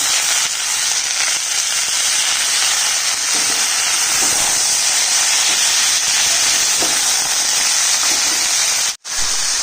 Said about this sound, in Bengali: এবার আমি শাকটা দিয়ে দিচ্ছি।